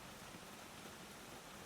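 Steady rain falls outside a greenhouse, a soft, even hiss of drops on the glass and roof that holds the same level throughout, with no voices.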